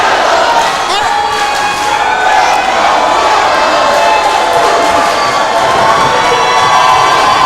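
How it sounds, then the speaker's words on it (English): A packed professional wrestling crowd roars continuously during a Zilla Fatu match, dense loud cheering and shouting that holds at a boiling level, with a commentator's voice running beneath it. "You can hear the crowd."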